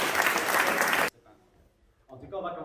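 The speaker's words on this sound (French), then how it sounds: "vous pouvez encore vous applaudir" Hackathon participants applaud themselves in a burst of dense, loud clapping that stops abruptly after about a second, leaving near silence before a voice starts speaking.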